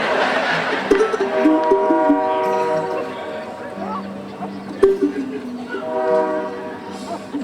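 A train horn sounds in long sustained blasts, loud and near, with a low rumble underneath and a few sharp clanks.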